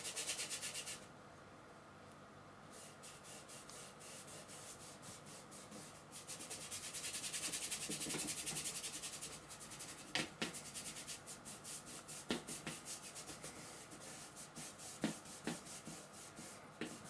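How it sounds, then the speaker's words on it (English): A paintbrush scrubs oil paint across a canvas background, close-up rhythmic rubbing and swishing strokes, with short bursts of scratchy bristle strokes marking the later stretch. "So I'm just scrubbing in the background"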